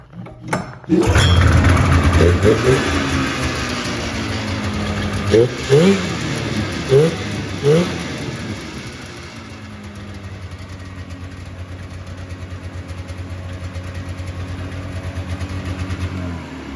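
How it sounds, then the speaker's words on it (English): A 1991 Polaris 440 Sport snowmobile engine cranks and catches, then runs steadily with a few revving surges early on before settling into a rough, continuous idle. "start her up one more time for you guys"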